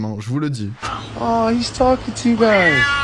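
A cat meows several times in drawn-out, wavering cries while people talk over it.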